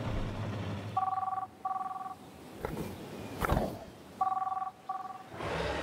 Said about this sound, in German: Geh erstmal ans Telefon.